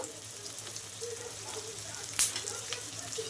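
Sauce poured into a pan of frying chili chicken, raising a sudden loud hiss and burst of sizzle over a steady background of frying, close up with no talking.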